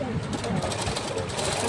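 A sewing machine runs steadily, stitching the seam of a baby frock with a half-inch margin. The whir continues evenly under a speaking voice.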